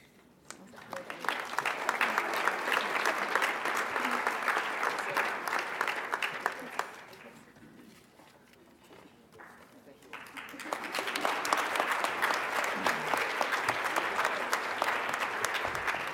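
Audience applause at a student leadership awards banquet: a broad wash of clapping swells and holds for several seconds, fades briefly, then surges again and keeps going to the end.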